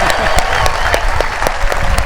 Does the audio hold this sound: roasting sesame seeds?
no